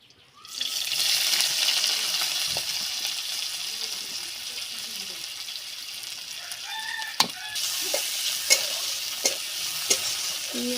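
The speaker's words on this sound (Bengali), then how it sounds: "তেলে আর একটু তেল দিয়ে দেবো, দিয়ে পেঁয়াজটা দিয়ে ভেজে নেবো।" Onion frying in hot oil in a pan while a Bengali fish and potato dish is being cooked, a steady sizzle that starts after a brief quiet and carries on with a few sharp clinks and stirring knocks near the end.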